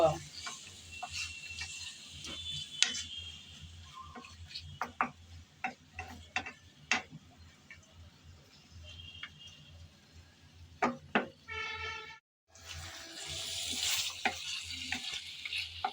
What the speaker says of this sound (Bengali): চিকেনটা দিয়ে ভালোভাবে নেড়ে চেড়ে কষিয়ে নেব